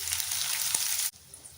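Mustard seeds, lentils and small shallots crackle and hiss loudly in hot tempering oil for a Tamil keerai paruppu kadaiyal, a dense sizzle that abruptly drops to a quieter simmer near the end.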